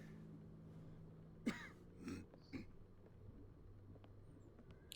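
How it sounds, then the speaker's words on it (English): A few short coughs and throat-clearing sounds close to the mic, three quick bursts in the first half over a faint low hum, then quiet. "Cough."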